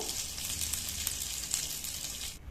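Onion rings frying in a pan for onion ring masala, a steady broadband sizzle with scattered small pops that runs evenly throughout and cuts off just before the end, with no talking.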